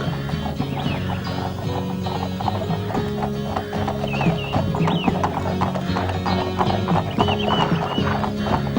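Hooves of a racehorse clip-clopping steadily at close range during daily road work, with an occasional neigh and background mechanical rattles; no one speaks.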